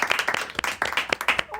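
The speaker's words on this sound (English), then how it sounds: "Let's give another round of applause to Bud McCraw" Brief burst of studio audience applause at the close of a talk show, a scatter of hand claps fairly near and moderately loud, with a little overlapping voice.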